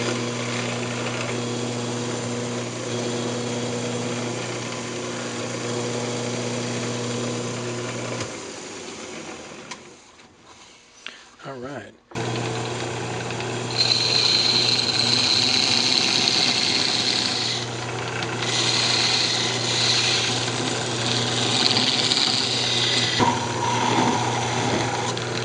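Wooden lidded box tenon sanded while spinning on a woodturning lathe: a steady, close motor drone with a constant hum and faint abrasive hiss, dipping into near silence midway before resuming louder with added high whine.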